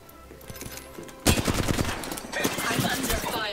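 Dense gunfire crackles in a battle royale video game, a sudden burst of rapid shots breaking in after a quieter stretch and continuing loudly as overlapping volleys to the end.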